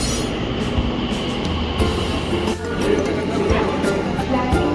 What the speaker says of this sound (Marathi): पुणे स्टेशनवरून डेक्कन साईडला जाणारी मेट्रो लगेच मिळाली.